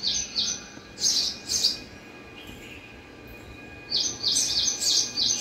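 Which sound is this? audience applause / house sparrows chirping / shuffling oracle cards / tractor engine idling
house sparrows chirping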